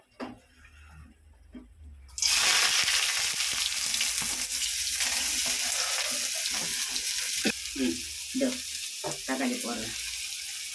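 Anchovies, onion, tomato and garlic hit hot oil with a sudden loud sizzle that keeps frying steadily, with occasional stirring scrapes and a quiet voice beneath.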